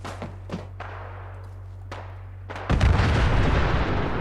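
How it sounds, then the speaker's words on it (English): A big explosion booms in the video game Fallout 4, a sudden loud blast that sets off a dense rumbling roar after a few scattered distant thumps. "Alright, well that was a big explosion"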